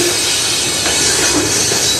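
A CN freight train rolls past close by in Sarnia, Ontario, with a steady loud rumble and hiss of wheels on rail throughout, and a faint squeal rising now and then.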